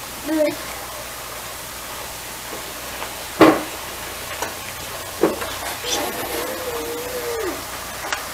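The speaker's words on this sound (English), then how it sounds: "stir in half cup cheese" Cheese being stirred into a spinach and chicken enchilada filling in a pan, soft scraping and stirring with a few sharp utensil knocks against a sizzling background, with a person talking at moments.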